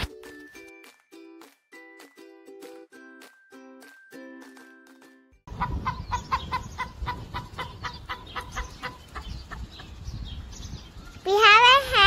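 Free-range hen in a New Zealand neighborhood clucking in a steady run of short calls, fairly close, following a stretch of musical tones and ending in a louder burst.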